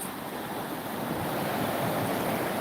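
A fast, deep mountain stream in the Carpathians rushes in a steady, close, broadband roar with no pauses and no voices.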